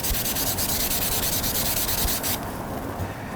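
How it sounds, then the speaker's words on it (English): Sandcloth from a small 3M pad scrubs a copper pipe clean, a close, steady abrasive rasp that runs for about two seconds before easing to a softer rub. "You can take a piece of sandcloth, this little 3M pad, and we'll just make sure that this thing's nice and clean."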